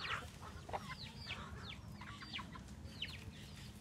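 Chickens on a farm, a rooster among hens, give a run of repeated clucks and short calls at close range, steady over a low rumbling background with no talk.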